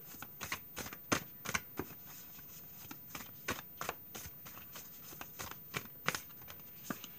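A deck of cards is shuffled for a card reading, with quick riffling bursts and snaps repeating irregularly in a quiet room and no talking.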